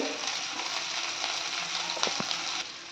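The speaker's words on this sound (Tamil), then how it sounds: "அடுப்பை சிம்மில் வச்சு நல்லா கிளறி கொடுத்துக்கலாம்" Onions sizzle steadily in a hot pan with curry leaves and green chillies while a spoon scrapes and stirs through them now and then, close and fairly loud.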